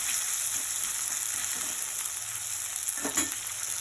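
Potatoes frying in oil in a pan, a close steady crackling sizzle with a brief louder scrape of stirring near the end, no speech.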